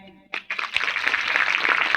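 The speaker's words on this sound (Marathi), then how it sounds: "टाळ्या." An audience at a kirtan breaks into applause, a dense burst of clapping that starts after a brief pause and holds steady and full to the end.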